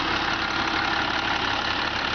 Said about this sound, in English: I'm going to go ahead and hop outside and let you have a nice look at the engine and hear it run up